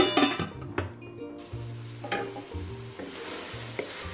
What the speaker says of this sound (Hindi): मसाले के साथ हमारी चिकन की अच्छी तरह भुनाई हो चुकी है।